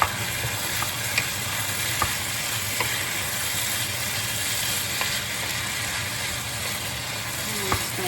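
A meat and salsa mixture bubbles and sizzles steadily in a pan as it cooks down for a taco dip, a dense close hiss with a few sharp clicks of a spoon, no voices.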